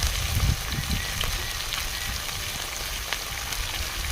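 Winter vegetables with cauliflower frying in a pan for khichuri, an even, moderate sizzle throughout with some low rumbling bumps near the start.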